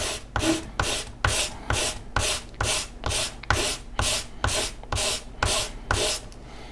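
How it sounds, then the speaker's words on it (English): Rhythmic back-and-forth sanding of wooden model rocket fins, about a dozen even rasping strokes in a steady rhythm, close and fairly loud with no talking. "I'm going to continue sanding the other 3 just a little bit"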